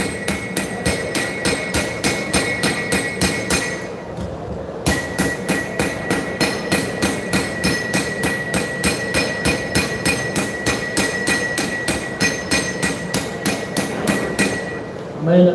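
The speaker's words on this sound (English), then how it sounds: "I'm going to take the ball peen, and I'm going to work in this back section here" A ball peen hammer forges a knife blade at a live knife show, ringing in a steady fast rhythm of sharp close metallic strikes that pause briefly once and then resume for about fifteen seconds.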